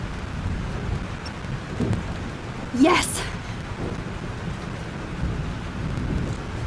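Thunderstorm with steady rain in Life is Strange Remastered, a continuous wash of rainfall with a sharp thunder crack near the middle, and a voice briefly exclaiming over it.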